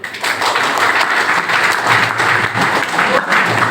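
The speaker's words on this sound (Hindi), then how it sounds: "तालियां होनी चाहिए।" Audience applause at a gathering, a dense, steady burst of clapping that lasts a few seconds on its own.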